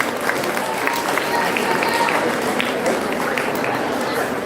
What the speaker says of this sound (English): Let's give a big round of applause for all of them.